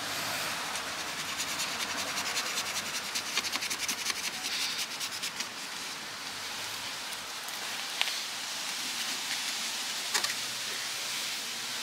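A cloth rubs back and forth while polishing a surface, giving a soft, steady scrubbing hiss with a few brief louder scrapes near the end. No one speaks.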